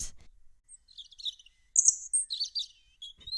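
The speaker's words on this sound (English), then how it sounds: "They are lovebirds." Lovebirds building a nest let out a string of quick, high, bright chirps at close range, in short bursts separated by brief silences.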